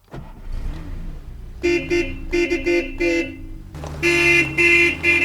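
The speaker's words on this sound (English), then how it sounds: "Now it's time to fire this thing up and see how it does." A 1959 Mercedes 220SE with fuel injection, started by push-button, its horn-like tonal bursts and engine running loud and close in repeated pulses, with no talk.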